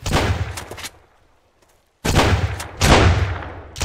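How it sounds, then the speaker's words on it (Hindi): Shotgun blasts in the survival game Sunkenland, two loud booming shots with a short quiet gap between them, close and punchy, followed by a further burst of firing. "आजा मैं भी शॉटगन मारूंगा"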